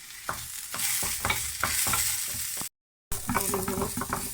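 Lentil nuggets fry with onion and garlic in a pan, giving a loud steady sizzle broken by scraping stirs and one brief silent gap.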